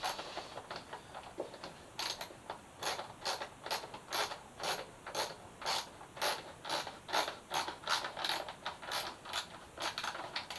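A ratchet tightens a 10 mm bolt on the air box of a Suzuki GSX-S 1000F, clicking in a regular series of sharp, close strokes after a brief pause.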